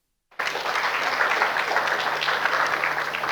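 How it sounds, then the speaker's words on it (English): An audience at an entrepreneurship programme event breaks into steady applause after a brief silence, a dense wash of clapping that holds evenly loud to the end. "That deserves a round of applause."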